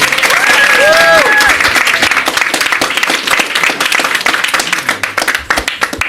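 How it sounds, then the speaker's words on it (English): Loud, dense audience applause at a mayoral event for a citywide student voter registration day, sustained for several seconds with crowd noise and a faint whistle, then gradually thinning toward the end. "Let's give Mohima a big round of applause."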